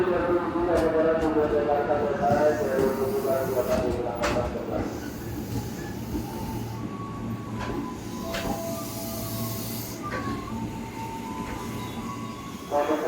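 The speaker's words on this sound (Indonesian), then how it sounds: "Jalur 3-nya ada KRL masuk" An electric commuter train rolls into Depok station with a steady rumble and low hum, a few higher squeals and tones rising over it, continuous throughout.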